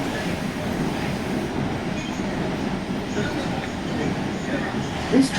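Thameslink passenger train running through central London on the Luton to Rainham, Kent service after leaving Farringdon: a steady, close, continuous rumble of wheels and carriage noise with a brief knock near the end.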